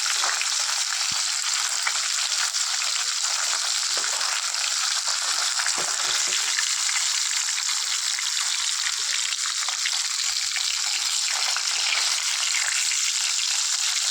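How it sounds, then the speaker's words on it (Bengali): Steady, crackling sizzle of catla fish frying in hot oil, close and continuous, with no voices. "মাছগুলোকে হালকা করে ভেজে তুলে নিচ্ছি"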